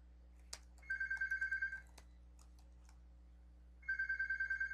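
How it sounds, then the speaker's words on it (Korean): A home telephone rings in two electronic trilling bursts of rapid pulses separated by a pause, clear against a quiet room with a faint steady hum. "우리 집에 전화가 왔네요."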